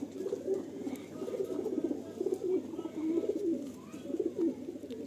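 Madrasi pigeons at a loft in Sonarpur coo steadily in low, rolling phrases that repeat through the whole stretch, close and fairly loud with no voices over them.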